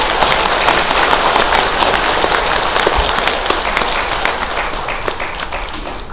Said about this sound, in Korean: 박수 좀 쳐주십시오.